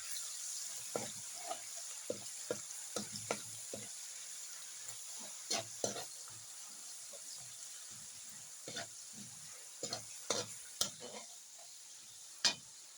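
A spoon stirs adobong penoy, boiled duck eggs, with oyster sauce in a pan, giving quiet scattered clinks and scrapes over a faint, soft background hiss.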